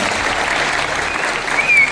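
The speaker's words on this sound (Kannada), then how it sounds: "ಜೋರು ಚಪ್ಪಾಳೆ" A live audience at a Dandeli wildlife-conservation stage programme breaks into steady, loud applause, a dense wash of clapping that swells slightly toward the end, with no voices over it.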